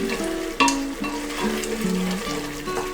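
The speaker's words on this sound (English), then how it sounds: "We'll saute for some time and we'll place the mushrooms on it." Masala and mushrooms sautéing in oil for a biryani gravy, a soft continuous sizzle with occasional stirring scrapes and a sharp clink near the start.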